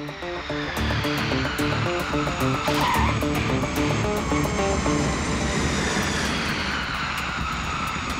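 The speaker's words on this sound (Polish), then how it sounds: "Podczas podejścia samolot szybko opada." An airliner descends on approach to Funchal airport in Madeira, with a loud, continuous engine roar and whine holding steady throughout, heard up close without talk.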